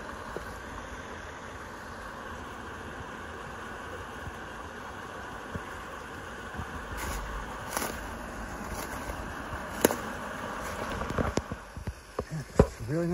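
A small waterfall in a valley along a mountain trail gives a steady, moderately close rush of water, with a few scattered raindrops and brief bumps toward the end.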